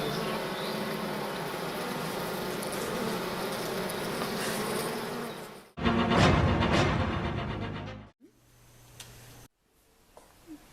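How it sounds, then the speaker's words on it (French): A dense, steady buzzing drone of a bee swarm that invaded a school in Navia de Suarna, Spain, then shifts abruptly through louder and quieter cut sections. "Les abeilles ont envahi le collège de Navia de Suarna."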